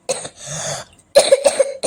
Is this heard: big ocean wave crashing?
no